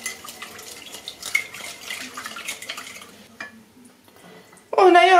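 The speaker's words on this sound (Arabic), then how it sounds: "غادي نعاود نخلط" Brioche dough ingredients are stirred together in a bowl, giving a busy run of clinking, scraping kitchen sounds that ends in a sudden, louder burst of mixing.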